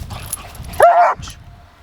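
A dog in obedience training gives one short, loud whine-like bark, close by, surrounded by quieter room noise.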